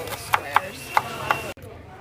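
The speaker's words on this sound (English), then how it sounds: "So now you're going to cut your onion." Knife dicing an onion for salsa on a cutting board, four crisp, evenly spaced chops standing out close up over a faint background hum.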